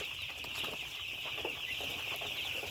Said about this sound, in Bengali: ব্রয়লার মুরগির খামার আর কি আপনারা দেখছেন এই যে পাঁচ দিন বয়স